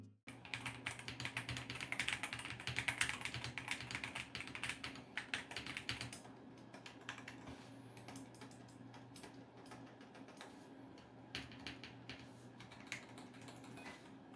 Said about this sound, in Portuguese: E agora vamos ao teste de digitação.